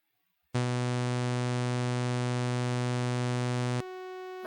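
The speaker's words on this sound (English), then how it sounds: "Let's try and hear some of this with the bowed string app. Let's try a pretty low note." A low note bowed on a string-instrument app rings out steadily for about three seconds, rich in stacked upper harmonics, then drops abruptly to a quieter, thinner tone; no voices.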